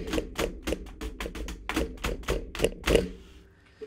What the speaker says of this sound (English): Here's the sound of me hitting my entire keyboard on the desk to test noise rejection.